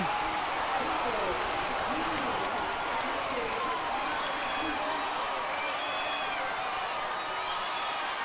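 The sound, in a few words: sellout crowd at a college lacrosse game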